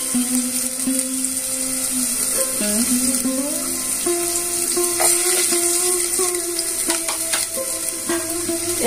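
Chopped garlic, ginger and onion fry in a little white oil for corn soup, a constant bright sizzle punctuated by scraping and clinks as the pan is stirred, close and unaccompanied by speech.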